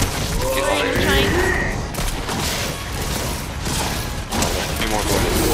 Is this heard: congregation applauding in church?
no